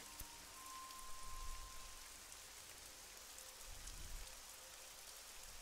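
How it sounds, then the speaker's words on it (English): Steady rain pours in a video game, a dense continuous hiss of falling drops with a faint low rumble beneath and brief tonal game sounds, holding even and moderate throughout. "It's raining."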